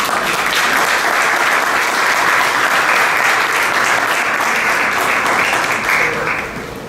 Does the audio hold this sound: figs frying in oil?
no